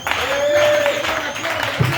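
Church congregation applauding and acclaiming the Lord during a French-language worship service, steady clapping and crowd noise blended with a sustained sung or spoken tone over the whole stretch.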